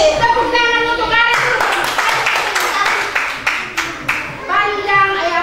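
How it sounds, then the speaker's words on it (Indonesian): Children in a primary-school maths lesson clap together in a quick rhythmic pattern of sharp, even beats after a short sung or chanted phrase, with young voices mixed in. "Tepuk tangan untuk kali"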